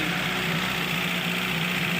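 A bus engine idles steadily at close range, a low mechanical drone with a faint knocking texture and no other sounds.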